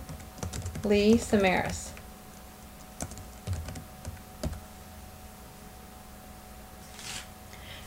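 Keys on a computer keyboard are tapped as scattered, light clicks. A voice speaks briefly at the start, and then the keystrokes continue alone against a quiet room hum.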